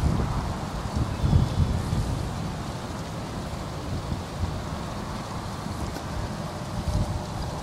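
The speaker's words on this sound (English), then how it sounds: "The wind's blowing from the right to the left" Steady outdoor wind blows at a plein air painting spot in the Florida Keys, a continuous broadband rush with low gusty rumble and some microphone buffeting, moderately loud throughout with no speech.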